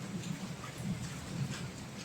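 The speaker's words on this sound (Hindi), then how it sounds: "बहुत तेज गरज हो रही है, गरज के साथ बारिश है आज।" Heavy rain falls through a thunderstorm, a dense steady hiss with low rumbling swells of thunder rolling underneath, continuous and fairly close.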